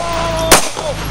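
A single sharp pistol shot cracks out at an outdoor shooting range, loud and close, ringing briefly over a steady background hum.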